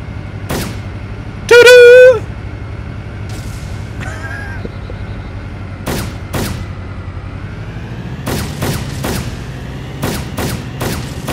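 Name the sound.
gunfire in video game DayZ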